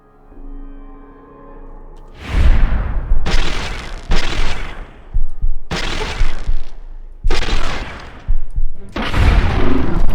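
Laser pistol fire in Fallout: Tale of Two Wastelands lands as six loud, sharp energy shots, each cracking hard with a brief decaying tail, spaced roughly a second apart and close up.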